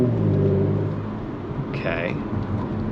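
An Audi B9 S4 being driven gently, its engine giving a steady low rumble and hum throughout, with a person talking over it.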